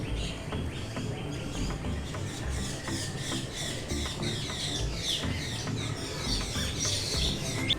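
Many small birds chirp, tweet and squawk continuously in an aviary area at Disney's Animal Kingdom, a dense layered chorus of high calls, some near and some farther off, with no talking.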